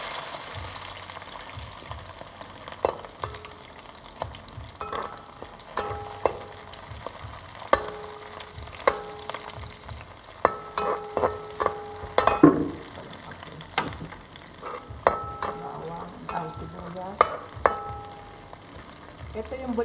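Garlic, onion and tomato stirred into a pan for Kapampangan bulanglang, with a low steady sizzle under repeated scraping and clanking of a utensil against the pan, loud taps scattered throughout.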